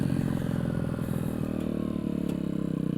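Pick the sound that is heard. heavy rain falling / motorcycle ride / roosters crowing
motorcycle ride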